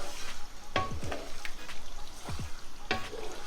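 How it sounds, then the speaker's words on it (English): Chicken pieces fry with masala in a pan for palak chicken curry, a close, steady sizzle broken by several sharp scraping stirs of a utensil, no talking. "We're going to cook it with the masala. Cook it really well."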